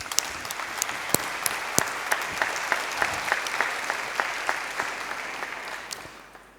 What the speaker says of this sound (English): I have to ask for a big applause to all these sponsors.